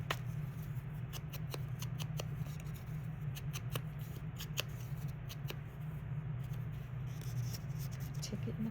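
Scissors snip through paper and card while a gift bag junk journal is trimmed, a run of crisp close cuts over a low steady hum, with no talking.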